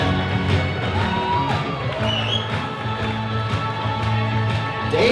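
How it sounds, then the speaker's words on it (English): Wedding guests cheer and whoop for the bridal party being introduced, a dense crowd noise with scattered shouts and a few whistles, loud and close, sustained throughout with background music. "Let's give a big round of applause."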